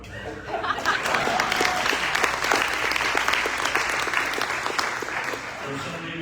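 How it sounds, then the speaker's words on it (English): Audience at a Rotary year-end celebration lunch breaks into steady, dense applause that holds evenly for several seconds, with a few faint chuckles mixed into the clapping. "A round of applause."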